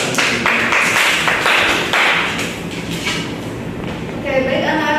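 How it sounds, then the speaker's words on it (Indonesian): A classroom of students gives brief applause for a presenting group, a short burst of dense clapping that fades as a voice begins speaking. "Beri tepuk tangannya."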